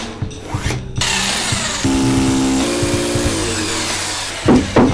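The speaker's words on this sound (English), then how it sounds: "We'll plug into the CNC machine." CNC machine cutting a wood sheet laid over a scrap sheet, with a clunk, then a rising spindle whine and steady cutting noise, tones shifting in steps before short knocks at the end.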